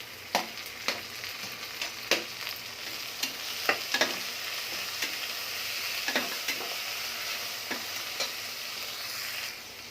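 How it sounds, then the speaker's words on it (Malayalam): Chopped vegetables for a vegetable biryani are stirred and sautéed with fresh coriander and mint leaves, giving a steady sizzle with sharp, irregular scraping clicks of the spoon against the pan, heard alone without any voices. "ഇതൊന്ന് വഴറ്റി എടുക്കണം."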